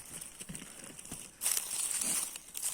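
Plastic bag rustled and crinkled outdoors while honey mushrooms are packed away, with soft scattered crackles, then a louder bright burst of crinkling midway, close by.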